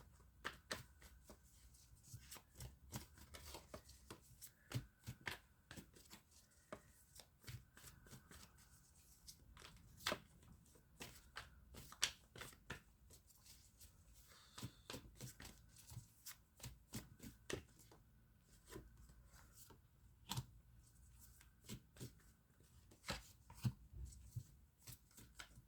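Tarot cards are shuffled by hand up close, a quiet continuous patter of rapid riffling and sliding card clicks running throughout with no talking.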